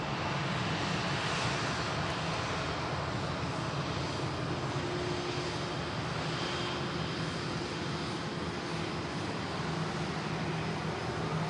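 A Kuwait Airways Airbus A330neo taxis onto stand at Manchester Airport, its engines giving a steady, broad roar with a faint whine, continuous and fairly distant without talk.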